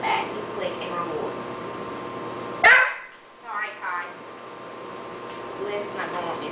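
A dog stepped on during a backing-up training session lets out one sharp, loud yelp, followed by softer whimpering sounds, all over a steady hum of air conditioning with no talk.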